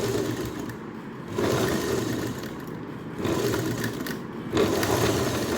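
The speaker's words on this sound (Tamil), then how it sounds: "மிஷின் யூஸ் பண்ணி அப்படியே ஒரு ரவுண்டு ஸ்டிச் கொடுங்க." Sewing machine running slowly to stitch a round coin purse made from blouse fabric, a steady close mechanical whir that rises and eases in three long bursts.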